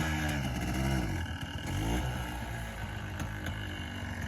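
A quad ATV engine revs up and down in quick surges during wheelie practice, its throaty note rising and falling close by, with rattling clatter mixed in. No talking is heard.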